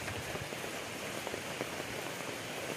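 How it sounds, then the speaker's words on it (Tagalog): Heavy rain pours down steadily on a small farm, a dense, even hiss of drops on surfaces with no pause and no voices. "Grabe ang lakas ng ulan na to."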